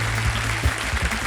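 Studio audience on a televised Indian quiz show applauding steadily, a dense, loud wash of clapping that lasts throughout the short moment with no voice over it.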